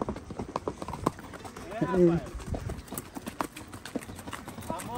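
Hooves clip-clop at a walking pace during a horseback riding outing, with irregular close hoof taps under excited talking and a brief vocal sound midway.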